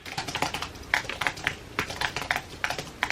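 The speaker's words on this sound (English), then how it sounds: "type this out." Typing on a computer keyboard, a close, steady patter of key clicks with a few firmer strikes, continuous for the whole stretch and with no one talking.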